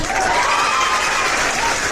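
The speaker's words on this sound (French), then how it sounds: "On va applaudir pour propre nous." Audience applause at a public gathering: dense, steady clapping from a crowd that fills the whole stretch at an even, fairly loud level.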